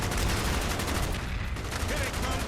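Rapid gunfire in the Call of Duty Black Ops video game: a dense, continuous barrage of automatic shots fills the whole moment loudly, with battle noise behind it.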